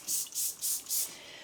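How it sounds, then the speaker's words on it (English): Water spray bottle misting a cleaning cloth in four quick, even bursts of hissing spray, close and fairly loud, with no talking. "I'm just spraying it down with some water from my Forever spray bottle"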